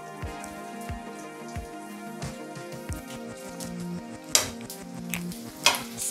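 Garlic cloves and cumin seeds frying in hot oil, a quiet crackling sizzle with a few sharp pops and light stirring taps, close and without speech.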